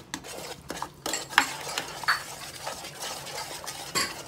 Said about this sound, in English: make sure we're gonna stir it up nice and good until the sugar be melted